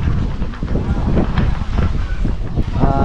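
Breezy wind buffets the microphone at Looc Beach Resort in Bagac, Bataan, a loud continuous rumbling gust with no clear speech over it.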